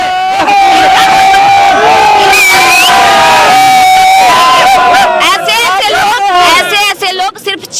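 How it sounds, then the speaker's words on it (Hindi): A crowd shouts loudly at a public gathering, many voices yelling over one another in a sustained, chaotic roar that stays close and dense before breaking into choppier bursts toward the end. "ऐसे लोग सिर्फ चिल्लाकर लोगों को चुप कराना जानते हैं।"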